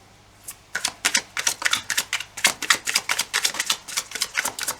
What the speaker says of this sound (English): Let me pull you some oracle cards.